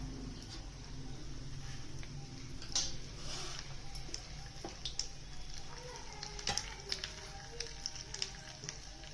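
A teaspoon of mustard seeds, added after cumin, crackles and pops in hot oil in a home kitchen, with scattered sharp ticks over a steady low frying hiss throughout.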